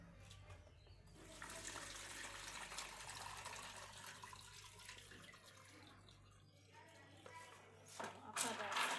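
Water runs from a tap or is poured into a container while bean pudding is prepared in a kitchen, a faint steady splashing that ends in a louder burst near the end.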